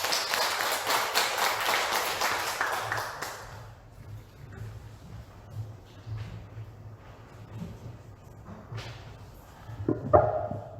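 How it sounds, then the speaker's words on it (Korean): An audience claps at a Daegu-Gyeongbuk Heungsadan monthly meeting marking the group's founding anniversary, a dense round of applause that fades out after a few seconds, leaving quiet room noise and scattered small sounds. "큰 박수 부탁드립니다."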